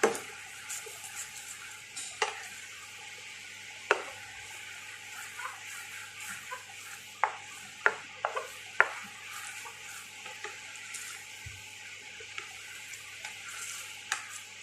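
A spoon stirs garlic sauce simmering in a pan, with a steady soft sizzle beneath scattered scraping clicks and taps against the pan, close and fairly quiet, with no talking.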